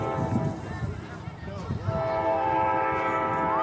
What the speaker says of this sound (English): this might be a freight train